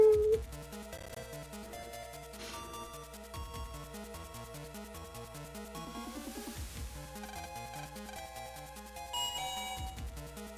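A Mega Man Battle Network game plays a chiptune-style electronic jingle with bright, beeping melodic tones over a pulsing bass pattern, resembling an old cell phone ringtone. It runs steadily for about ten seconds, moderately loud, with no talking.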